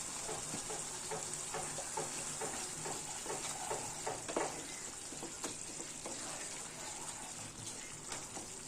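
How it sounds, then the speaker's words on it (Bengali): Spice paste sautés in hot oil with a pinch of asafoetida stirred in, a soft continuous sizzle with faint scraping and clinks at low volume, nobody speaking. "মশলাটা একটু কষে নিই। আর সামান্য হিং দিচ্ছি"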